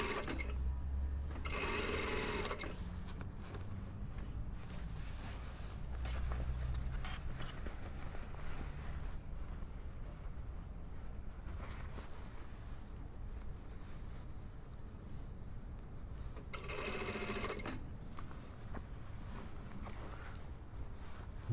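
A sewing machine stitches a jacket sleeve into the armhole of a dartless lined jacket, a soft continuous mechanical whir broken by two louder bursts of rapid stitching, with no talking.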